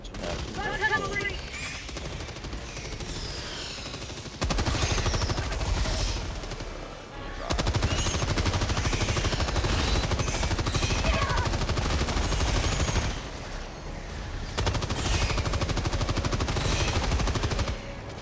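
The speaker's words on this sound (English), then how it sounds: "Shooting a bunch of bugs." Sustained automatic gunfire in Helldivers 2 as players shoot swarms of bugs, long dense bursts separated by brief pauses, loud and close.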